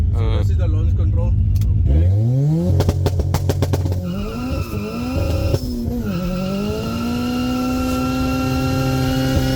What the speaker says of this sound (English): So this is the launch control.